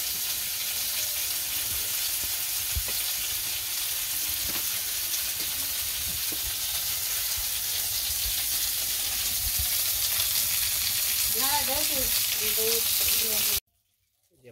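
Pointed gourd (potol) fries in a pan, making a steady, moderate sizzle with occasional stirring scrapes and brief background voices near the end before the sound cuts off abruptly.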